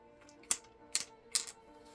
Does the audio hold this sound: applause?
no